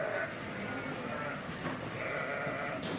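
Dairy ewes bleat on a farm, several wavering calls rising above a low barn murmur, some near and some farther off, while a person talks in the background.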